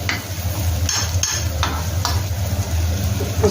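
Carrots fry in a pan with vegetables, a steady close sizzle broken by several sharp scrapes and knocks of a spatula stirring against the metal.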